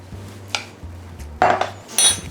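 Spoons clink and scrape against a dish while blueberry jam is scooped onto baked brie, a few distinct metallic taps and scrapes over a low background hum.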